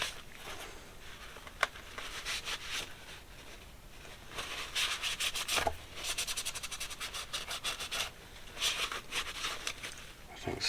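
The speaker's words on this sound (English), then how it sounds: "Clean all this dirt and grime off." A 1982 Honda CB650 motorcycle air box is scrubbed clean of dirt and grime with rhythmic back-and-forth rubbing strokes, close up, in bursts separated by short pauses.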